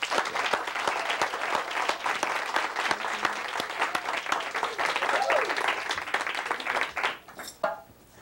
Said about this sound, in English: I want to hear a big round of applause for Vievee.